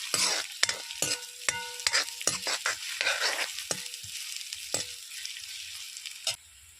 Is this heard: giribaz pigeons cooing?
no